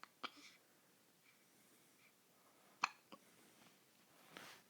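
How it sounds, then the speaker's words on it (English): A young girl hiccuping indoors, a few sharp, quiet hiccups spaced irregularly over soft breathing and faint background hiss, with no talking. "For now, I'm just figuring out what these hiccups are."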